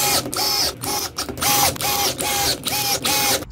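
A powered driver runs wood screws into the wall of an enclosed trailer to mount E track, giving repeated loud buzzing bursts with short pauses between each screw, close up.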